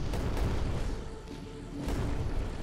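The Odin's lathe cannon fires in the game Creeper World 4, a sustained loud, rumbling boom-like roar that dips briefly and then builds again.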